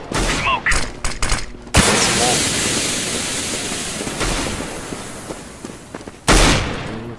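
AK rifle gunfire in the video game CS:GO: a quick run of sharp shots at the start, then a long loud burst of sustained fire that fades slightly before another abrupt blast near the end, with a voice briefly heard.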